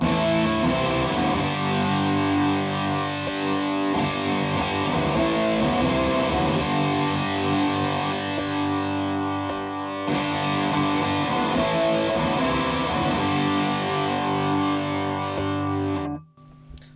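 Heavily distorted electric guitar, run through a Fulltone distortion pedal into a Hot Cake pedal, plays a continuous, loud riff with thick sustained overdrive, cutting off abruptly near the end.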